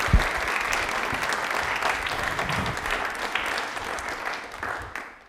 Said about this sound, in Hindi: एक बार तालियां सर के लिए जोरदार हो जाए